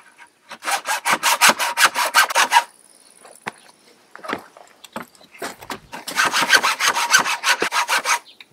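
A handsaw with a blunt blade cuts through pallet wood on a rural Portuguese homestead, giving two runs of quick, rasping back-and-forth strokes close by, with a quieter stretch of scattered knocks and scrapes between them.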